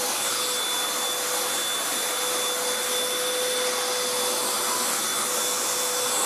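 Beaumark BM222 V600 TinyTurbo handheld vacuum cleaner running steadily, a close, loud constant whine with a high tonal hum, picking up dryer dust.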